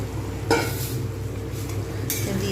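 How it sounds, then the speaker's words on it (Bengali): Soybean chunks drop into a simmering potato curry in a pan, giving a soft wet splash and stirring scrape over a steady low bubbling sizzle, with a second brief clatter near the end. "এইবার আমি এর মধ্যে দিয়ে দেবো যে সয়াবিনগুলো রেখে দিয়েছিলাম"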